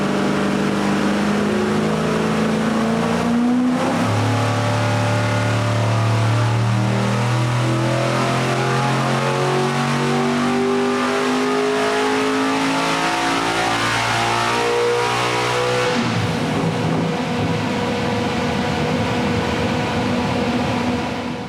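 Hemi streamliner engine on a dyno pull, revving hard and loud with rising harmonic pitch, then an abrupt, clearly audible tone change around two-thirds through as the note turns rougher and broader, sustained without talk.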